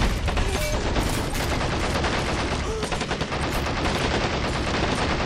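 Sustained machine gun fire and gunshots from Men of War: Assault Squad 2, loud and continuous throughout, with dense overlapping bursts filling the whole stretch and faint voices underneath.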